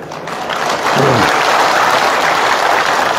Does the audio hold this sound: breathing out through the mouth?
no